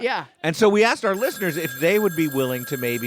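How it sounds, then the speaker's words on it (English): A telephone rings with steady high bell tones that start a moment in and carry under people talking loudly over it. "The phone's ringing."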